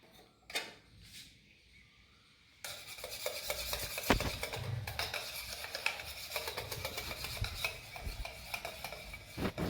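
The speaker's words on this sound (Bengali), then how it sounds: "হুইস্কার দিয়ে একটু ভালো করে মিশিয়ে নিলে তোমার খুব ভালো করে মিশে যাবে" Mango ice cream mixture is whisked in a bowl, with a few soft knocks and then a busy run of rapid clinking, scraping strokes close up.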